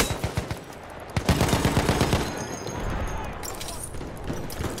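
Gunfire in Battlefield 1, rapid bursts of machine-gun shots and close rifle cracks in quick rhythmic volleys, over battle noise while a soldier's voice shouts.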